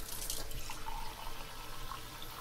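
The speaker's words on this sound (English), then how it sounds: "Just a little glass of water" Tap water runs steadily into a glass at close range, a continuous splashing stream with no talk over it.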